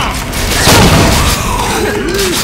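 Pipe bomb blowing up in Left 4 Dead 2, a loud booming blast with a crashing rumble that lingers and fades, with faint game noise around it.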